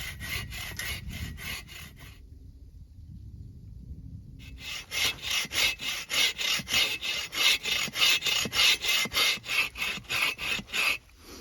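Agawa Boreal21 folding bow saw cutting through a log: a pause, then about fifteen steady rasping push-pull strokes that grow louder and closer, with no talking.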